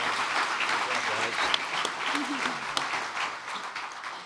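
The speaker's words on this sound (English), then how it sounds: "let's welcome our panel with a round of applause" An audience at a leadership breakfast event applauds to welcome a panel, the continuous crowd clapping filling the space with a speaking voice heard over it.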